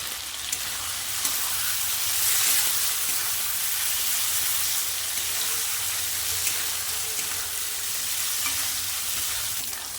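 Whole garam masala spices sizzling in hot oil in a pan for a Bengali mutton curry, a steady, close frying hiss with faint stirring and no voices.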